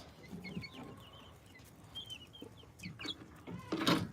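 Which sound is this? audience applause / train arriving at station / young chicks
young chicks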